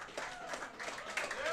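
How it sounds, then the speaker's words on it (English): Studio audience applause closing a Prowlers coach's show at Wings, a steady wash of clapping hands lasting the whole moment at moderate level with no clear break. "Can we get one more round of applause for Alex Johnson and Vinny Dekumbis"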